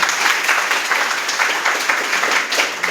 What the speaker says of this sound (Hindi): मैं चाहूंगा एक बार जोरदार तालियां सभी लोगों के लिए।